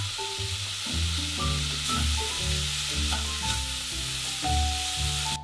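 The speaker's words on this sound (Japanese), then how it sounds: "フライパンにごま油を小さじ1、 中火で炒めます。 冷凍庫からしめじ 30g" Frozen shimeji mushrooms are stir-fried in sesame oil in a frying pan over medium heat, producing a dense close sizzle broken by repeated rhythmic scraping and tossing strokes, with no speech.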